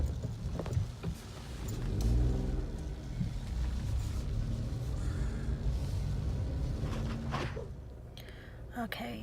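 A car pulls away from a hospital, its engine rumbling low and steady up close inside the cabin, with faint muffled voices and small interior clicks near the end.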